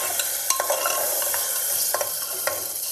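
A paste of ginger, garlic, onion, garam masala and cashew frying in oil for korma, with a constant sizzle and scattered scraping stirs from a spoon, close and steady.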